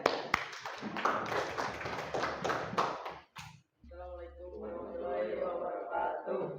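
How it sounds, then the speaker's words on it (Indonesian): A classroom of students claps for group 2 before their presentation, a brisk burst of hand claps lasting a few seconds that stops abruptly, followed by a voice speaking. "Tepuk tangan dulu boleh?"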